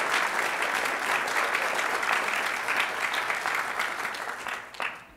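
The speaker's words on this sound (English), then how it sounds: "Let's give Teandre a round of applause" A church audience claps for a graduate, sustained dense applause that fills the room, then thins and trails off into a few last claps.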